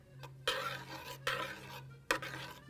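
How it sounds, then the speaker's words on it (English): Butter and olive oil being stirred together in a pan, giving three sharp utensil scrapes against the metal over a low steady hum, with no voices. "now that our butter is melted, we're gonna add our olive oil. You can kind of mix that together"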